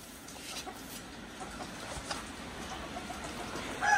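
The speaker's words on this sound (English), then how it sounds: "Come on, chickens." Chickens cluck softly in a backyard coop, with scattered low calls over a steady outdoor background and a louder burst near the end.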